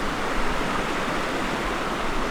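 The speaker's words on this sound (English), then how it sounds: "it's really not that quiet because the creek is rushing along" A creek rushes steadily, a constant broadband roar of flowing water with no voices.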